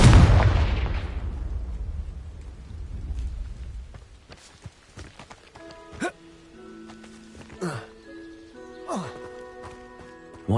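Confringo fire spell exploding in the game Hogwarts Legacy: a loud, booming blast opens and rumbles away over several seconds, followed by quieter magical whooshes, tonal effects and a voice speaking in the game.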